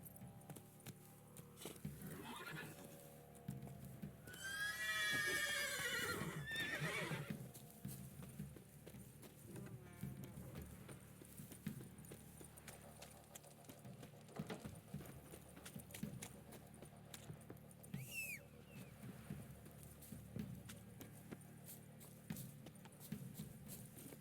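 Roach the horse from The Witcher 3 video game, with steady clip-clop hooves trotting throughout and a loud whinnying neigh early on, plus a brief later call, under a faint game ambience.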